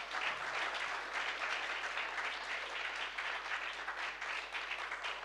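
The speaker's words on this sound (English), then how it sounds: "Can we give a massive round of applause to the panel" A summit audience in Rome applauds a panel, giving dense, steady clapping that carries at an even level for several seconds with no voices over it.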